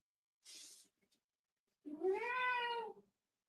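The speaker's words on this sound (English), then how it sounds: "There is a cat going ballistic." A cat in a movie scene caterwauls in one long, rising and falling wail that is loud and close, preceded by a short burst of hiss-like noise and a couple of faint ticks.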